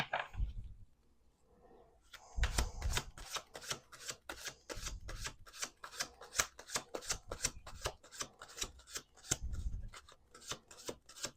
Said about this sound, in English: We're going to do one more shuffle.